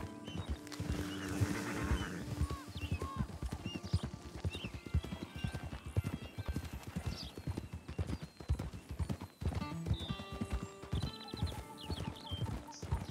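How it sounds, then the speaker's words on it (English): Steady clip-clop of horse hooves at a walking pace, close by, with insect chirps and a few snorts and whinnies over outdoor ambience, in the video game Red Dead Redemption 2. "enjoy the natural sounds of horse clippity-cloppeting"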